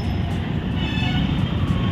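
A train rumbles at Champahati railway station, a loud, steady, close roar of wheels and carriages with a faint tonal whine and bustling platform noise.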